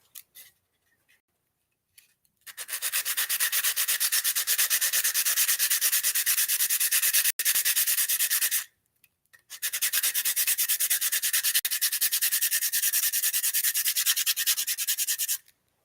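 Sanding a briar pipe stem by hand, a steady close rasping rub that runs in two long continuous stretches separated by a short pause.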